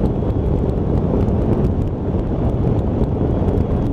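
A Triumph Tiger 800 motorcycle rides over gravel on Exmoor, heard as loud, continuous rumbling road and wind roar with crunching texture, steady throughout and without speech.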